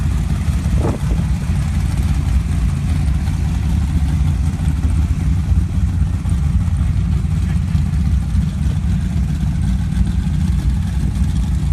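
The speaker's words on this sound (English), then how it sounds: "Chris Ketron's green Larry Minor Dune Jeep" Off-road race truck and Dune Jeep engines at a sand drag event at Soboba, a loud steady low-pitched engine roar throughout, rough and continuous rather than distinct revs, with faint crowd and announcer talk underneath.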